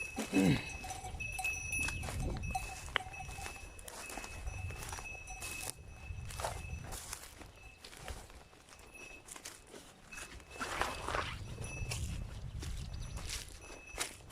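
A flock of sheep heading out to pasture moves past, hooves pattering and shuffling, with clanking bells and an occasional bleat nearby.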